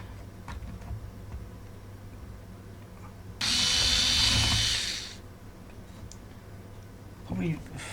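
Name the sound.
drilling guide holes in a model railway layout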